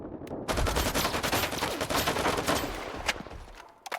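Gunfire in the shooter S.T.A.L.K.E.R. 2, a dense, loud burst of rapid automatic shots lasting several seconds, then a final isolated crack before it fades.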